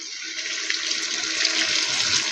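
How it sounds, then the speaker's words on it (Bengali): Water poured steadily into a pan of cooking chicken curry, a continuous close, loud gushing rush that holds for the whole stretch without pause. "আর এবার আমি জলটা দিয়ে দেবো, পরিমাণ মতো জল দিয়ে দেবো।"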